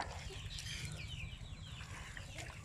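Chickens clucking as they are fed, a dense, continuous flock chatter close by and fairly quiet, with busy short calls overlapping throughout.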